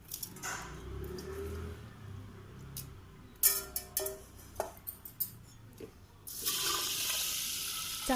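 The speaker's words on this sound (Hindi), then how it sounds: "चावलों में हमने पानी डाल लिया कुकर में" Water is poured into washed rice in a pressure cooker in a home kitchen, a short splashing pour followed by faint clinks and taps of metal, then another steady pour near the end, close and without talk.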